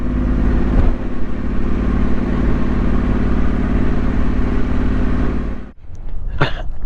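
Adventure motorcycles climbing a tricky hill in the Yorkshire Dales, a loud, steady engine drone held for several seconds before dropping away abruptly, followed by a brief fainter mechanical noise.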